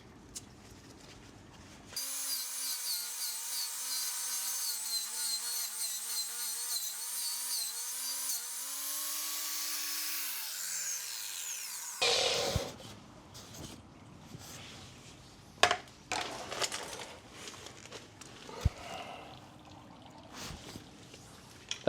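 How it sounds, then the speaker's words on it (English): A power sander whines steadily as it strips paint off metal for about ten seconds, then winds down; scraping and handling noises follow, fairly close. "All I'm doing is just sanding off the paint so I can get a good contact for the weld."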